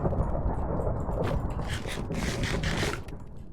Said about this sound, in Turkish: Kafa ütüleyen bir fırtına başladı şu an